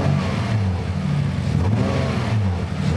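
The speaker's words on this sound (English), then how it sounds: "kind of hear the engine sounds rough, and it's also slow to respond to the throttle." Idling engine of a Nissan 300ZX Z32 with a misfire, running rough and uneven with a steady low rumble and irregular pulsing, close by with no talking.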